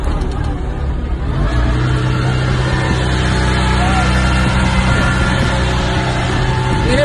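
A Maserati MC12 Corsa engine fires up and settles into a loud, steady, throaty run nearby, holding a constant roar throughout.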